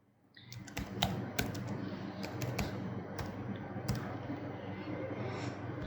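Fingers type rapidly and steadily on a computer keyboard, entering a PAN number at an income tax portal login. The keystrokes sound close and even, with a few sharper clicks standing out, and there is no talking.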